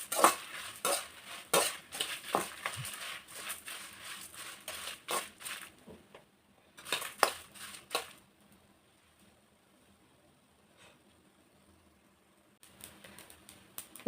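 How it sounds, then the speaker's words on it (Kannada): A spatula scrapes and clinks in a pan as spices dry-roast over a low flame for puliyogare powder, with quick rhythmic strokes, then a quiet pause and a few more stirs close by. "ಸೊ ಈಗ ಎಲ್ಲ ಹುರ್ಕೊತಾ ಇದ್ದೀನಿ. ನೋಡಿ ಈ ಥರ ಕಡಿಮೆ ಫ್ಲೇಮಲ್ಲೇ ಹುರ್ಕೋಬೇಕು."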